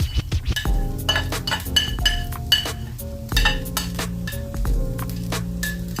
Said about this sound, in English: My carrots, I'm gonna go ahead and add my onion and my garlic all at the same time.